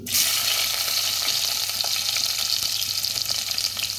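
Ginger frying in coconut oil in a pan after fenugreek seeds have popped, giving a steady loud sizzle with faint crackles throughout and no talk.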